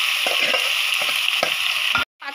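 Meat hits a hot pan of reddened, browned ingredients and fries with a loud, continuous sizzle, broken by a few soft stirring clunks, before cutting out abruptly near the end.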